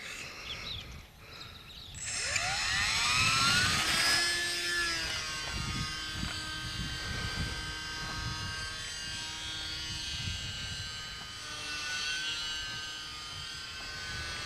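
An E-flite UMX Gee Bee R2 small electric RC airplane motor whines in flight, its high buzzing pitch sweeping up to full throttle then wavering as the model passes, moderately loud over outdoor background.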